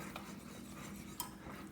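Spinach and cheese soufflé mixture being stirred in a pan over lowered heat, a quiet continuous scraping with a couple of faint utensil clinks against the metal, under a low steady hum.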